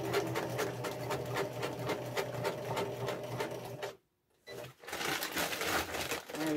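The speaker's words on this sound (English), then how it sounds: "I lay the panel down and I stitch" A sewing machine stitches a fabric panel for a round slip-on cover in a fast, even mechanical rattle, pausing briefly for about a second, then resuming close and steady.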